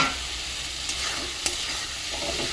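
Eggs sautéing in a pan for egg curry, a close, steady sizzle with brief stirring scrapes and a small knock, no talk.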